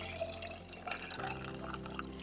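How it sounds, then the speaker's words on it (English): A drink poured gently into two glasses prepped with ice, giving a soft, steady liquid trickle with faint splashing and clinks, quiet and close. "you just do a gentle pour"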